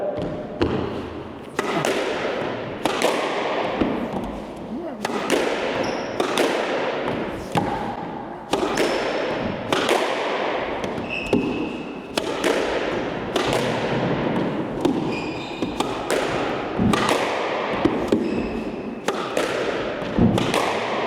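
Squash balls smacked hard and repeatedly during a five-cone training drill, loud sharp thuds in a fast steady rhythm echoing in a court, with a coach's voice briefly in between.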